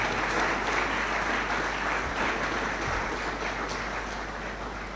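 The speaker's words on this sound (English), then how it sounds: "Shall we please thank them by clapping?" An audience at the Ephraim Amu Memorial Lecture claps steadily to thank the participating schools. The applause is dense and even, holds at a moderate, fairly distant level for the full five seconds, and no voice rises above it.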